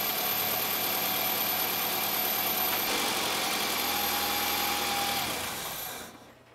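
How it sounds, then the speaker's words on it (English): A 2001 Toyota Highlander engine idles steadily at close range with a constant mechanical hum and hiss after a valve cover gasket repair, then cuts off and fades out in the final second. "I'm gonna go inside the vehicle and turn off the engine"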